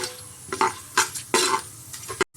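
Chana dal stir-fried in a pan for vangi bath, a run of scraping, stirring strokes with soft sizzling and a few clinks of a utensil against the pan, close and fairly loud, ending abruptly.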